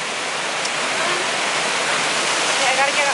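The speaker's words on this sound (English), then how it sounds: "We have a little baby waterfall here" A small waterfall beside a hiking truck trail gives a steady, close rushing splash of water that fills the whole clip evenly.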